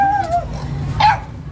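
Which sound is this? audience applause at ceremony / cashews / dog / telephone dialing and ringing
dog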